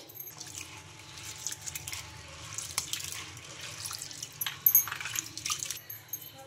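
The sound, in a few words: washing soaked lentils in water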